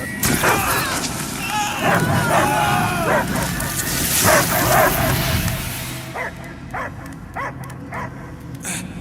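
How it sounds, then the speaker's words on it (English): Several dogs bark and yip in quick bursts in the video game Marvel's Guardians of the Galaxy, loud and close, with a whimpering tone mixed in over a busy background. "I hear only barking"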